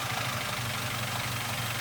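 A Toyota Avanza engine idles just after an overhaul, holding a steady, close low rumble with an even, unbroken throb and no voices.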